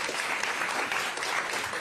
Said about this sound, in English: Always good to give a round of applause to Mavis Steil.